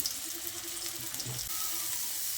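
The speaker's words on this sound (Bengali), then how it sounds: "এবার তেল ভালোভাবে গরম হয়ে এলে সেদ্ধ করে রাখা সয়াবিনগুলো দিয়ে দিচ্ছি" Boiled soybeans drop into hot mustard oil and fry with a soft, even hiss, fairly faint and steady across the short stretch, with a brief low knock near the middle.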